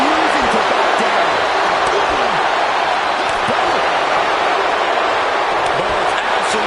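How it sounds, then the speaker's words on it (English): A roaring, steady crowd fills a wrestling arena in WWE 2K25, a dense cheering wash running continuously for several seconds with brief whistles and shouts poking through. "Listen to this crowd."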